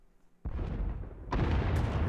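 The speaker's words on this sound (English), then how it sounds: "Sounds like the bombing's getting closer." Explosions and bombing in the Star Wars: The Old Republic video game, with a sudden loud blast and a rumbling tail, then a second, even heavier boom about a second later, with nobody speaking.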